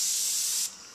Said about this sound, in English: I'm going to go ahead and spritz a little bit of my Avion toner